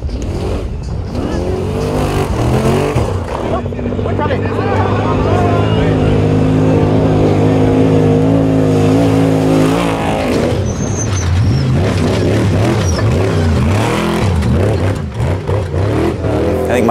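An off-road race vehicle at the San Felipe 250 churns through a deep silt bowl, its engine roaring and revving loudly with rising and falling pitch, jolts and rattles, heard from on board throughout.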